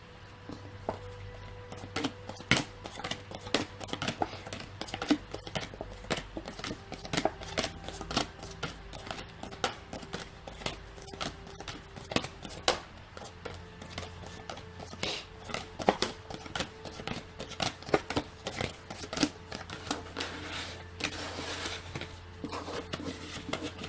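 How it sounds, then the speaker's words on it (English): Tarot cards are shuffled continuously for a long stretch, soft rapid riffles and flicks repeating close by, quiet and steady with no talking. "I will get started shuffling the cards"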